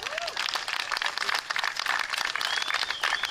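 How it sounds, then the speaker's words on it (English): Crowd at an outdoor lowrider car show for cancer awareness breaks into steady applause, dense clapping mixed with scattered whistles and cheers throughout, with some voices mixed in. "let's just give everybody a big hand of applause"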